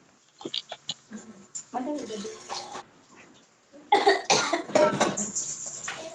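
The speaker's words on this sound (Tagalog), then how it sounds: "Parang lahat yata kayo meron ng ubo dyan ah." Several coughs, some short and sharp, others in a harsher burst near the end, close by, with faint rustling in between.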